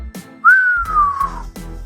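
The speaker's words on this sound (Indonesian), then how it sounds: "Wiro keluarkan satu siulan." A man gives a single clear whistle, one long, bright tone that slides gently downward before cutting off, framed by brief soft noises.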